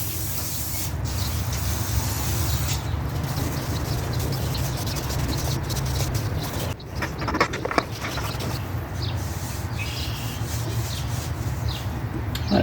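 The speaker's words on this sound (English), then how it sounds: "We're just going to clean them up with some brake clean. Get the dust and grease off of them." Brake cleaner sprayed from an aerosol can onto the wheels of a 1975 Yamaha 175 barn-find motorcycle, a steady close hiss running the whole time with a short break and scattered rubbing and dripping sounds.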